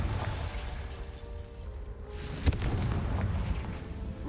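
Explosive spells go off in a Harry Potter video game, a rumbling stream of blasts with one sharp bang in the middle, deep booms rolling under the whole stretch.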